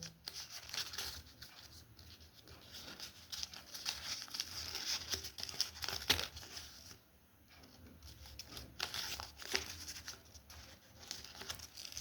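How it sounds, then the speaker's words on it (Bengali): Paper is cut continuously in a science demonstration, giving a quiet, steady crinkling and rasping that comes in short strokes with brief pauses, close and soft, with no talking. "দেখো, এইভাবে কন্টিনিউ কাটা হচ্ছে।"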